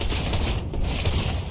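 A drum shotgun in Fortnite unloads in rapid bursts, a dense string of loud booming blasts with a brief gap partway through, close and alone without speech.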